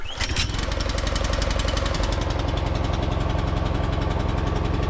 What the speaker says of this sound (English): Try and hold the mower a little bit, give it a pull.